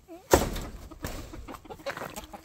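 Chickens and ducks settling at night inside a house, a sudden close squawk followed by softer clucks and rustling, short and sharp against a quiet room.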